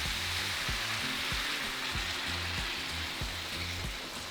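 Sauce hits a hot pan of pork and potatoes in green chile, giving a steady, loud sizzle that runs the whole time over low, repeating background music.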